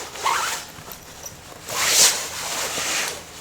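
A single zip on a vintage jacket being pulled, giving short rasping zipper runs, one early and a longer, louder pass near the middle, close and clear with no talk.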